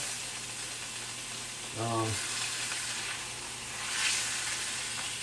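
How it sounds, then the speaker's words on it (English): A roast searing in bacon grease gives a steady, moderate sizzle throughout, with a brief low hum near the middle and a slight swell toward the end. "My little roast is sealing up pretty nice here. Bacon grease does do a really good job of like crusting up your roast"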